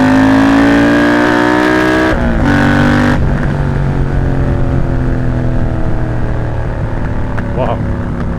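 A Triumph Bobber motorcycle engine revs hard and close from about 3,500 RPM, its pitch climbing, breaking off briefly twice, then settling into a loud, steady drone.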